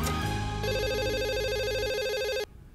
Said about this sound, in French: Le téléphone sonne.